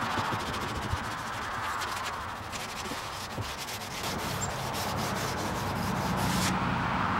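Steady, close abrasive rubbing of 400 grit sandpaper over the metal fenders of a 1953 Ford F100 resto-mod truck, a continuous hissing scrape with fast back-and-forth strokes and no voices.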